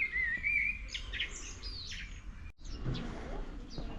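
Several birds sing and chirp outdoors in the old town of Ohrid in spring, with clear whistled phrases and repeated tweets close by over a steady low background hum.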